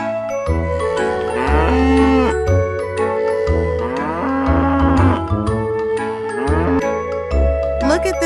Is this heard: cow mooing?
yes